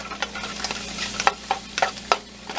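Mushrooms cooking in butter in a pan give a steady close sizzle, broken by a series of sharp scraping stirs and light clatters, with no talking.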